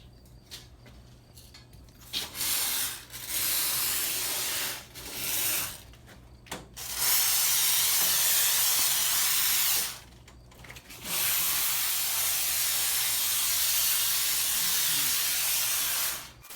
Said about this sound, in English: Alright, master spray foam.